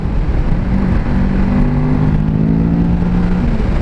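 Loud, close engine of a 2017 Kawasaki Ninja 650 motorcycle revving hard as it accelerates, a rising steady drone with strong low harmonics and wind rush, no talking.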